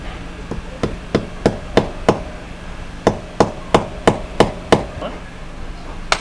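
A nail is hammered into a wall to mount a bracket for a 90 cm DStv satellite dish, with around fourteen sharp, close strikes falling in two quick rhythmic runs and a brief pause between them.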